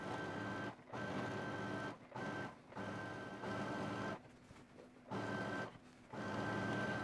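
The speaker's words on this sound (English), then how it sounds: "I'm gonna do my triple top stitch along this seam, kind of pulling it tight a little bit so that it lays nice and flat" Sewing machine running in steady bursts while triple top stitching a seam on a pair of jeans, the motor's hum starting and stopping several times with short pauses between runs, close and fairly loud with no talk.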